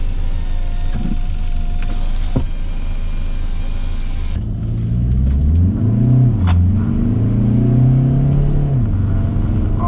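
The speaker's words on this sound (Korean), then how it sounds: "창문 열었는 소리가 왜 이렇게 커?" Steady rushing air noise through an open window inside a moving Volkswagen T-Roc on winter tires, with engine drone rising and falling underneath as the vehicle accelerates.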